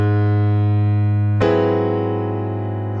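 A gospel piano chord, a sharp-five triad voiced over a tritone, sounds sustained and ringing, then a second chord is struck about halfway through and left to decay, alone with no talking.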